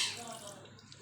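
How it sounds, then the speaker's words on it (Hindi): Water poured into a cooking pot while making chicken handi, a short splashy pour that fades over about a second, with faint speech-like sound underneath. "ये 1 कप पानी भी डालेंगे इसके अंदर।"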